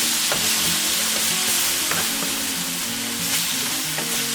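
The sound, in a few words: chicken and mushrooms sizzling, being moved in paella pan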